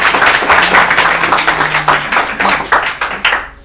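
A studio audience at an Urdu literary quiz show breaks into loud, close applause for a correct answer, dense rapid clapping that holds steady and then cuts off abruptly.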